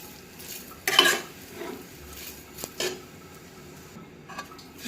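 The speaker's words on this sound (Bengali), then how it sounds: "সুন্দর করে ভাজছি" Vermicelli toasting in ghee in a pan gives a faint, quiet sizzle, with a few sharp scrapes and clinks of a spoon against the metal pan, and no talking.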